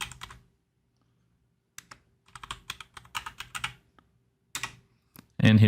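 Typing a phone number on a computer keyboard, bursts of close, crisp key clicks in uneven clusters separated by silence, followed by a voice starting to speak at the end.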